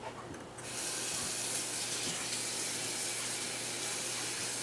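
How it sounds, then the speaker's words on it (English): Tap water runs steadily into a very small sink to rinse something, starting with a brief pause and then a continuous close, even gush. "I'm going to go ahead and rinse it over there real quick"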